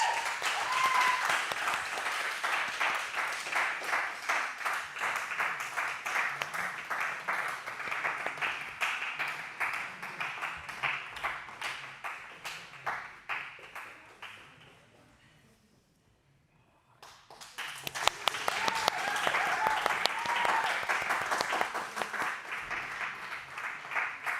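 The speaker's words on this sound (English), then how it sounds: "So give them a round of applause." Rhythmic audience applause rings out at a grappling event's medal presentation for superfight winners, many hands clapping in a steady beat that fades to near silence midway before surging back loud and dense.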